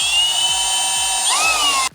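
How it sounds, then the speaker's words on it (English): A power drill whines steadily as it bores holes up into garage ceiling truss wood for eye bolts, a loud, continuous high-pitched drone with a slight pitch dip near the end before cutting off abruptly. "Now we need to drill our holes, and we'll try to make them as straight as possible"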